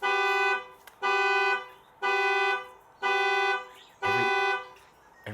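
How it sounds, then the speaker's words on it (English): A car alarm blares in a repeating pattern, five evenly spaced bursts about a second apart, each a harsh buzzing tone with short gaps between, moderately distant and with no talk. "every day this lady goes to start a car and that damn alarm goes off"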